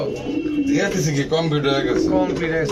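Pigeons coo steadily in soft, throaty warbles, close by, with a few light chirps mixed in.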